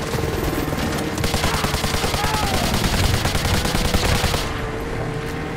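Sustained automatic gunfire in the video game Modern Warfare 2 Remastered, loud and continuous bursts of rapid shots with booming layers, thinning out near the end.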